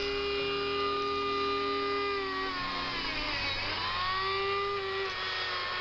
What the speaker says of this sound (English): I've been using my Thug Dremel